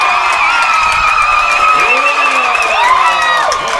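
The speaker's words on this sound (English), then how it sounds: "it's a pro-Fresno crowd, as you would expect in the north, goes crazy on that one" A pro-Fresno crowd at a women's college soccer final between Fresno City and Santa Barbara roars and whoops loudly after a blocked penalty kick, a sustained wall of cheering with shrill shouts rising and falling throughout.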